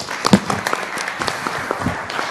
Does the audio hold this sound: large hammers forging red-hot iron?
no